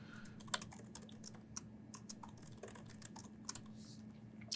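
Quick, light clicking of keys on a computer keyboard as code is typed, a faint irregular patter of keystrokes over a low steady room hum, with no voices.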